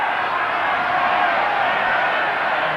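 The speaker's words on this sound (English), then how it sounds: "Canberra crowd seem to be starting to roar to get their team back into the motion again" A rugby league stadium crowd in Canberra roars steadily through a 1994 Raiders versus Sharks match, a dense, loud wall of massed voices holding at a constant level.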